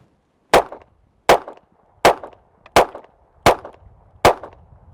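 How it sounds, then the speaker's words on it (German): A blank-firing pistol's slide is racked six times in an even rhythm, each a loud, sharp metallic clack with a brief rattle, spaced by near silence. "Erst wenn ich den Schießbetrieb wirklich aufnehmen will, lade ich den Schlitten durch"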